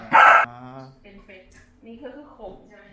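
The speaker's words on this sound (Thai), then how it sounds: "เห่าสุ่มบุ้งว้าบุ้งว้ามัวมาก" A two-and-a-half-year-old corgi lets out one loud, close bark at the start, followed by people talking.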